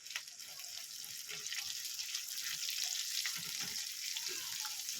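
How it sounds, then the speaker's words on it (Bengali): Half a medium onion fries with chilli in a pan for a cabbage dish, a soft continuous sizzle with scattered crackles and faint clinks, fairly quiet and without talk. "ভালো করে একটু ভেজে নেব পেঁয়াজ দিয়ে দেবো"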